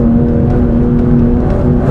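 A 2025 Aston Martin Vanquish engine pulls hard on a winding road, a loud, steady, close drone with a strong low tone that holds throughout.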